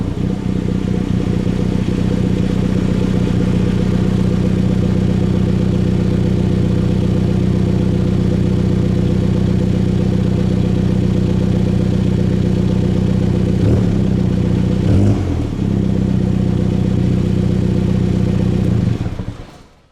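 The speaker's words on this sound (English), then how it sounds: "We can now hear the car's exhaust and view the indicators and daytime running lights." A 2020 Mini JCW GP sits idling, its engine and exhaust giving a loud, steady low rumble that holds constant with a couple of brief clattering blips near the end before it cuts off.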